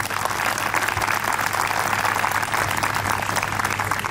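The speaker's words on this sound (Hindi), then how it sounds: "जो भी जो 4 टीचर हैं उनके लिए एक बार जोरदार तालियां हो जाए।" Continuous, vigorous applause fills a hall at a JEE Advanced 2022 results celebration for four teachers, a steady clatter of many hands with a low hum underneath.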